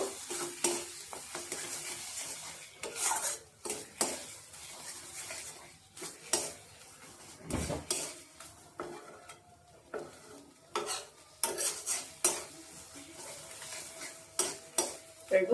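A spoon stirs and scrapes thick mashed bean paste with sugar around a wok in quick, uneven strokes, with a light sizzle underneath and no talking.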